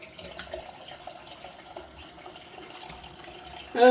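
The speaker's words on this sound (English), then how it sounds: "Just going to rinse that. Rinse the face." Tap water runs into a sink while a face is rinsed after a shave with a vintage barber mug, a soft, steady, slightly splashy flow, faint and close, rising a little at the end.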